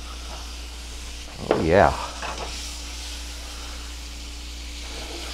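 Butter sizzling as it hits a hot pan before hash browns go in, a steady frying hiss under a low hum, with a brief clatter and a short spoken remark midway.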